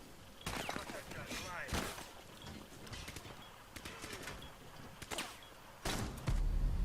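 Gunfire in the tactical shooter game Rainbow Six Siege: several loud sharp shots and bursts crack out at irregular intervals across the scene, mixed with game effects and close background noise.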